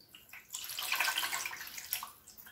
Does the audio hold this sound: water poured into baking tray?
yes